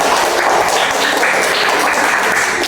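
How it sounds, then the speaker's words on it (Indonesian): A classroom group gets a burst of loud, dense clapping from many hands, sustained and fairly even throughout with no break. "beri aplaus untuk kelompok satu"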